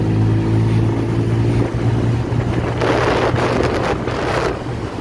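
A Honda Vario 125 scooter, an older model with upgrades, runs steadily at speed on the road, its engine drone loud and continuous under heavy wind buffeting the microphone, with no talk.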